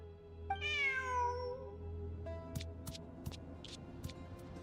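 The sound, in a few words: cat meowing in video game Genshin Impact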